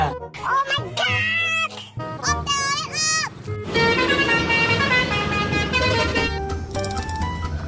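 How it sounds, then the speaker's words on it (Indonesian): A toy bus plays its musical telolet horn tune, a series of bright warbling tones, followed by a louder sustained chord of horn notes; a voice mixes in. "Ternyata ada bus telolet."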